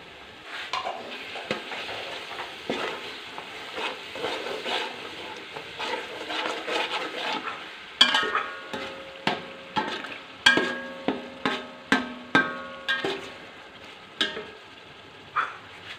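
Mixed vegetables for sabzi pulao clatter in a pan under a steady low sizzle, then a run of sharp, evenly spaced metallic knocks as a spoon strikes the pan while stirring.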